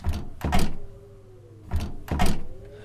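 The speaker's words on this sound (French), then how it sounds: "Je ne peux pas ouvrir la porte!" A door in a horror video game rattles as someone tries to open it and it stays shut, two rounds of double thumping jolts with a faint creaking tone between them.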